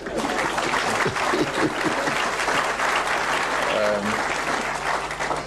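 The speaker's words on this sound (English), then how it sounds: "You can all clap for Minister Gordon." Investor conference audience applauding a government minister, a loud, sustained patter of many hands filling the hall, with a few voices faintly underneath.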